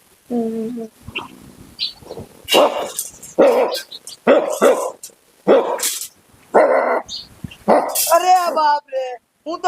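A dog barks repeatedly in loud, close bursts, with whimpering yips between, while a person talks intermittently nearby.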